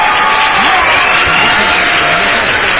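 An audience at a Hindi Awadhi comic poetry recital gives brief, steady applause, a dense wash of clapping that fills the room with no voices on top.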